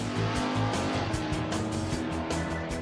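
Drag racing cars roaring at full throttle on Shakespeare County Raceway, a converted aircraft runway strip in Britain, a loud continuous engine blare with pulsing gear-change surges, close and with no voice.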